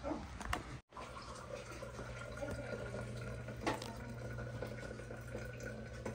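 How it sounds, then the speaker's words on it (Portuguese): Water pours steadily from a raised kettle spout to brew coffee on a farm, a continuous close splashing stream with a short break near the start, no talk. "É sempre bom deixar o bico da chaleira meio alto pra oxigenar a água"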